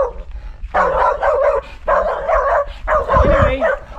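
An agitated dog barks in three loud, harsh bursts outdoors, each volley lasting about a second with brief pauses between, close to the microphone and sounding aggressive.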